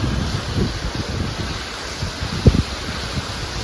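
Rushing water from a waterfall along a snowy trail in Southern California, a steady broadband roar with wind buffeting the microphone and a brief louder thump partway through, no voices.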